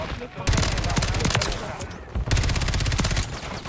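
Sustained rapid automatic gunfire from a Warzone (MW3) firefight, loud and dense with a brief lull before bursts resume, with a voice talking briefly over it.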